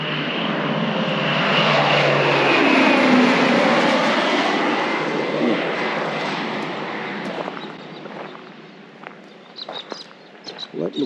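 A crop-spraying propeller airplane passes over a canola field, its engine drone loud and near at first, then gradually fading into the distance while birds and occasional voices come through.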